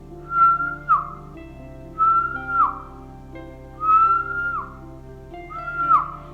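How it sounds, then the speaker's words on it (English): A person whistles four short phrases, each a sustained note ending in a quick downward slide, spaced evenly with pauses between, clear and alone over faint background hum. "The next one is whistling."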